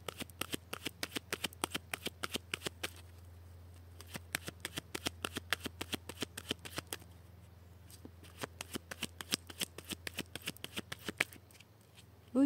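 Tarot cards riffled and shuffled by hand close up, a long run of quick crisp flicks in bursts with brief pauses, ending in a sharper knock as the deck is cut.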